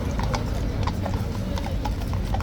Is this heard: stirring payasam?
no